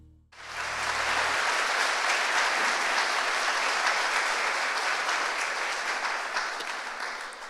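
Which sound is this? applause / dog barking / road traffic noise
applause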